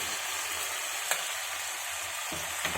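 Gongura leaves being stirred into prawn masala in a pan, with a steady sizzling fry and a couple of soft scrapes of the ladle against the pan, close and alone.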